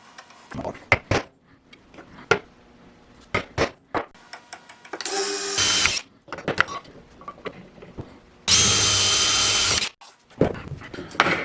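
A power drill whirs in two sustained bursts, each lasting a second or more, drilling a center-punched hole, separated by sharp taps, clicks and handling knocks.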